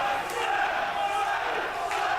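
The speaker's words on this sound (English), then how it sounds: "This crowd is going wild." A wrestling arena crowd roars and cheers in a steady, dense wall of noise, loud and sustained throughout, with no individual voices standing out.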